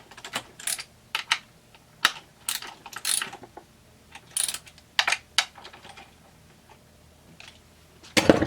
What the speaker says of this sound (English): I'm going to check this with a ratchet just for the feel